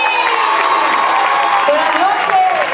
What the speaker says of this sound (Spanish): Fuerte, fuerte los aplausos para mi amiga Adri Tomasei.